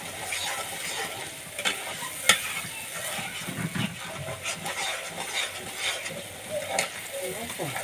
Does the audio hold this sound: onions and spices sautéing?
yes